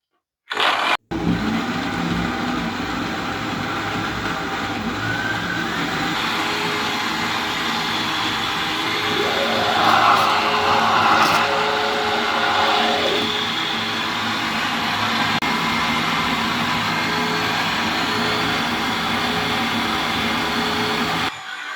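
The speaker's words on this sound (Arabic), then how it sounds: "يلا غادي نشعلو الخلاط ونديرو السرعات بشكل تدريجي" A Beem stand mixer motor whirs loudly and steadily, its pitch climbing as the speeds are raised step by step, with a brief surge partway through before it settles into a constant high drone.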